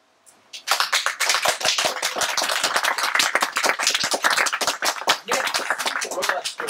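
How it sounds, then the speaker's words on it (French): A theatre audience breaks into ovation, with dense, lively clapping that starts abruptly and continues loud and sustained, voices calling out amid the applause. "Merci pour l'ovation"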